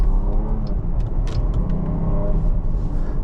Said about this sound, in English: Yeah, that's a really, really good manual mode for an SUV.